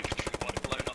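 A Thompson submachine gun in a WW2 video game fires as a rapid, steady burst of about a dozen sharp shots in one second, loud and close, with no talking.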